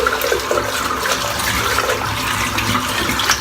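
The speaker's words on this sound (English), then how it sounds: "I've got to rinse my soaps, I can't leave the lather on top." Running water rinsing shaving soap lather in a sink, a steady splashing rush close by with no speech.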